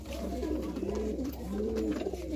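A Giribaz pigeon coos close by in a low, rolling, throaty call, repeated twice within a couple of seconds and clearly audible against faint background noise.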